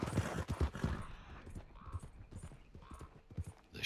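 Horse hooves clatter in a steady galloping clip-clop in Red Dead Redemption 2, fairly close and moderately loud against a busy game background.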